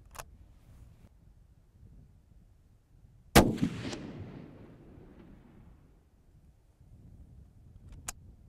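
A single loud rifle shot from a Heym SR21 at an outdoor range cracks sharply and rolls into a decaying echo, followed by a faint metallic click.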